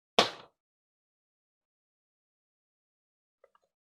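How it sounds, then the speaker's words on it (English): A folded paper popper snaps open once with a single sharp, high pop, followed by near silence and a faint tiny rustle. "you have to do it fast too to make a high pop sound like this"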